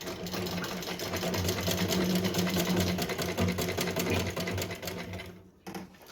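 A sewing machine runs steadily, stitching a folded seam through layered lining fabric with buckram in between for a small Laddu Gopal dress, a continuous whirring close by that cuts off briefly near the end.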